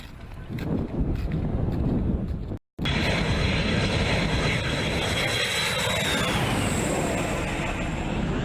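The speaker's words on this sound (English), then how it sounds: "And that was the Su-24 coming in, its payload gone, obviously after a mission." A Su-24 military jet coming in to land gives a steady, loud roar of engine noise with a high whine that slowly falls in pitch, continuous apart from one brief cut.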